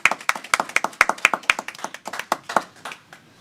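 Audience at a Martin County Board of Commissioners meeting gives a short burst of scattered hand clapping, a few people close by, fading out within a few seconds with no talk over it.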